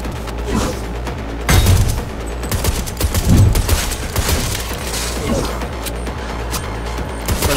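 Pistol fire in Cyberpunk 2077, loud sharp shots in short bursts over combat clatter and booms, with a voice speaking intermittently.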